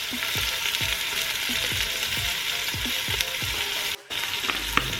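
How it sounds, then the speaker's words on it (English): Short ribs sear in a hot pan with a loud, steady sizzle, while repeated scraping strokes of a utensil knock through the frying noise. Near the end the sizzle briefly cuts out, and no one speaks. "we're just going to sear them until they're nice and brown"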